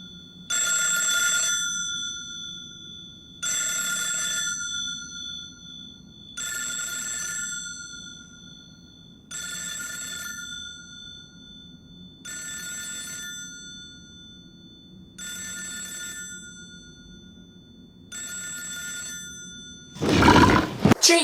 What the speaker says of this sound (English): The only sound we hear comes from the phone.